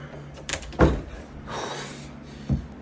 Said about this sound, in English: Okay, the door moved.